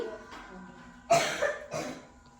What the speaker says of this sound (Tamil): எப்படி ஒரே மாதிரி எல்லாரும் இருமுறீங்க